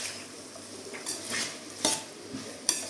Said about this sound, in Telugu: మంచిగా ఫ్రై అయ్యేంత వరకు ఫ్రై చేసుకోవాలి.